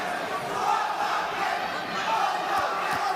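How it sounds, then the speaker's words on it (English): A boxing crowd cheers steadily through a fight between Raymond Ford and Otabek Kholmatov, a sustained roar of many voices with a few sharper shouts near the end. "Crowd enjoying this fight."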